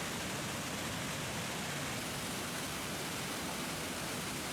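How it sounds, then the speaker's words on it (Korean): Water from a half-frozen winter waterfall in Estonia pours in a steady, dense rush of broadband noise, even and unbroken, with no voices. "겨울이라 폭포의 반 정도는 얼어 있었다"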